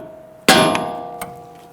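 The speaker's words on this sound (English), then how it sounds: "you can normally use a hammer and strike the knuckle to release the ball joint here" A hammer strikes the steering knuckle of a 2011-2023 Dodge Charger to free the ball joint: one loud metallic clang with a ringing tail, then a fainter second hit about three-quarters of a second later.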